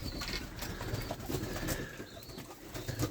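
Pigeons in a loft with chicks on the floor and parent birds, giving soft low coos and murmurs over a steady background rustle, with occasional wing flutters nearby.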